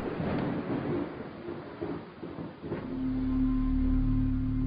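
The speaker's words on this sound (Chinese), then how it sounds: "八月的上海刚刚走出梅雨季节，却又迎来一场倾盆大雨" A heavy August downpour in Shanghai with thunder: rumbling rain noise and low thunder rolls early on, then a steady low drone takes over toward the end, no speech.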